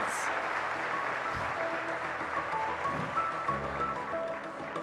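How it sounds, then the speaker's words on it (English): Audience applause at a CA students' national conference after a performance, a steady dense wash of clapping throughout with a faint voice underneath. "Please give them a huge round of applause, friends"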